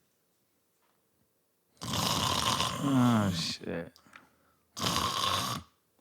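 A voice imitates someone loudly snoring on a bus: two long, rough, rasping snore sounds separated by a pause, with a brief spoken exclamation after the first.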